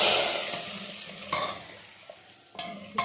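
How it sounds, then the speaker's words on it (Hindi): Oil goes into Lahori chickpeas cooking in a pan, giving a soft sizzle that fades, with a few sharp stirring scrapes against the pan. "अभी इसमें ऑयल डालेंगे।"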